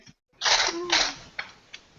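A single loud sneeze comes in two quick bursts close to the microphone at a tabletop role-playing game session. A couple of faint clicks and small noises follow.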